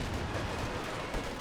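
Artillery barrage from a Pack Howitzer shelling a bunker in Company of Heroes 2: a dense, continuous rumble of overlapping blasts and crackling fire that stays steady throughout, with no voices.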